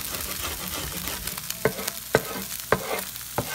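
Egg sizzles in a hot pan for vegetable fried rice, a steady frying hiss broken by four sharp scrapes of a utensil stirring and pushing it aside, close and fairly loud.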